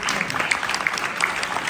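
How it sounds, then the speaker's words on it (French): An audience at a live performance applauds, steady scattered clapping from many hands, moderately loud and without talk. "On peut l'applaudir."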